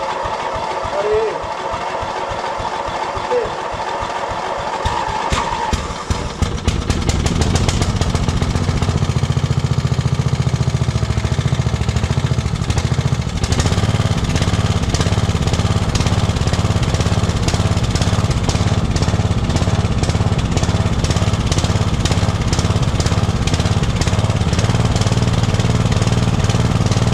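An old lawn tractor engine cranks with rapid chugging, catches after about seven seconds, and settles into a loud, steady, rattling idle close by.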